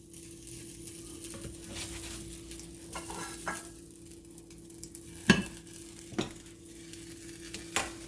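A smoked sausage omelet with onions and cheese sizzling softly in a pan, with a steady low frying hiss broken by a few sharp utensil scrapes and clicks against the pan, no talking.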